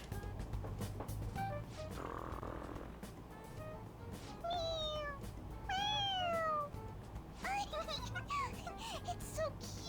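A cat in the Persona 5 Royal video game meows several times, with clear rising and falling calls near the middle and a quick run of meows toward the end, over quiet game background sound.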